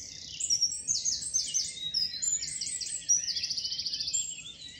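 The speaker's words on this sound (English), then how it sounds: "So we've got the wren singing very loudly just to our left here." A wren sings loudly and close by in Hembury woods during the May dawn chorus. It pours out rapid, high, ringing trills in repeated bursts, with quiet woodland air beneath.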